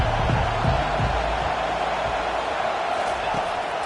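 Stadium crowd in the College Football 25 video game roars in a broad, steady wash of cheering, with a commentator's voice talking over the start.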